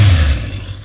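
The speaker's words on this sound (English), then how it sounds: "Once you press the starter button, the bike purrs like a little kitten." A Suzuki 1100cc air- and oil-cooled motorcycle engine runs with a low, throaty rumble, loud and close, fading slightly over a brief moment.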